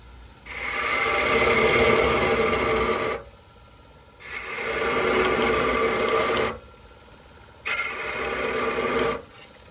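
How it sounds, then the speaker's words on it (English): Bowl gouge cutting a spinning top's stem on a wood lathe, thinning it: three sustained rasping cuts of a few seconds each, separated by short pauses, loud and close with no talking. "I'm going to make this stem just a little bit thinner. And I'm going to go ahead and use the bowl gouge for that."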